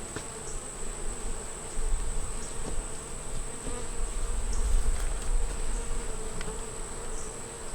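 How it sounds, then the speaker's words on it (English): Honeybees buzz around an opened hive after smoking, a close, continuous drone that swells and fades a little as insects pass near, with a steady high whine running over it. "We done smoked them, so we know the bees are going down."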